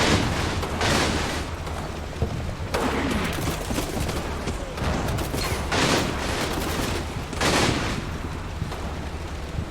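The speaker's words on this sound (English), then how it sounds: "This machine gun really hoofs it, but wow." Machine gun fire roars in long, loud bursts in a World War II video game battle, with heavy rattling volleys recurring several times and booming between them.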